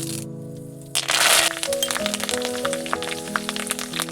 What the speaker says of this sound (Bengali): আমি কারি পাতাগুলো গরম তেলের মধ্যে দিয়ে দিচ্ছি।